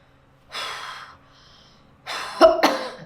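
A breathy exhale followed by a short pause, then a couple of close, harsh coughs in quick succession.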